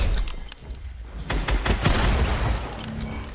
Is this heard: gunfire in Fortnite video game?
yes